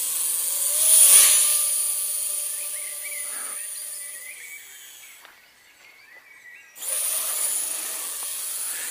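An i Drone i3s beginner quadcopter flies overhead with a steady, hissing motor whine that swells early on, fades to near silence around the middle, then returns strongly for the final seconds. No one speaks.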